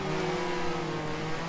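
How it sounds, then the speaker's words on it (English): A race car engine idles in the Second Life video game, giving a steady droning hum with a constant pitch that holds without a break and carries no speech. "I can hear her idling at her idle sound"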